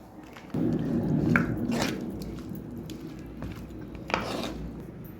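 Chilli powder is stirred by hand into raw prawn chutney, giving a close, steady squishing and mixing sound with occasional scrapes against the bowl, heard alone.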